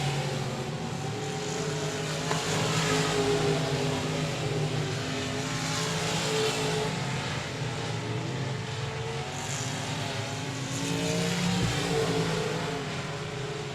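Race cars circle a dirt speedway track, their engines droning steadily at mid distance with a sustained roar that swells slightly as cars pass; no talking is audible.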